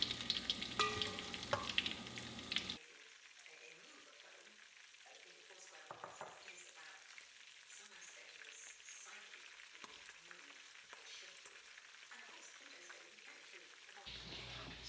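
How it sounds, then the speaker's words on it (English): Chicken browns in a frying pan for a stew, a soft continuous crackle and fine sizzle with scattered pops, faint and steady, after a louder stretch of mixed noise at the start. "So the chicken is almost done frying"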